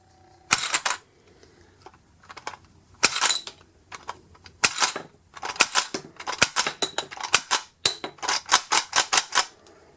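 A Power Rangers Dino Charge T-Rex Launcher toy fires its six projectiles, giving sharp plastic snapping clicks that start as scattered single shots and speed up into a quick rapid series, close and clear with no talking.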